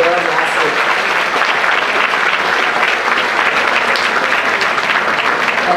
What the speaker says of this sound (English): I think they definitely need a big round of applause for your last week.